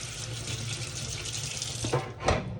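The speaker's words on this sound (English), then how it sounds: "just rinse off your spoon. Make sure nothing sticks to your spoon." Kitchen tap water runs steadily over a spoon being rinsed, a close, continuous splash with a brief clatter near the end.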